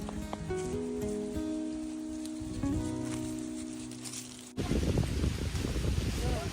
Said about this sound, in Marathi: आणि फायनली आता पावसाला सुरुवात झाली आहे.